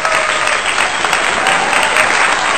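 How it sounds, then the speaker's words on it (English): A congregation clapping hands during a church sermon, loud, dense and continuous clapping from many people with no pause. "Join me by clapping your hand"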